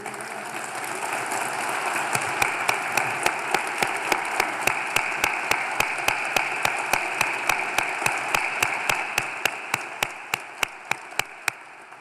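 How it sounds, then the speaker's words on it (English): Awards-evening audience, awardees standing, giving a round of applause: a steady, moderate crowd clapping with one sharp, regular clap or click repeating about every third of a second across it. "would you stand up one more time for a round of applause?"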